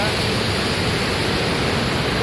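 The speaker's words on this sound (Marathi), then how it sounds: "बघा अख्खा पाण्याचा आवाज येतोय" Rushing floodwater from a dam stream in heavy flow, a dense, loud, unbroken roar of torrent heard up close throughout.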